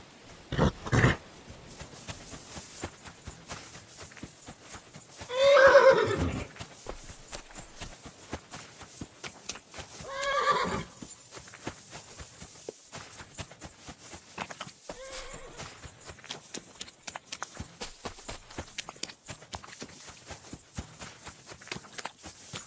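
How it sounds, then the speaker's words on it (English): In the video game Kingdom Come Deliverance 2, a horse gives two clear whinnies several seconds apart over a bed of faint hoof clip-clops and ambient noise, with no talking. "The horse! It really is here!"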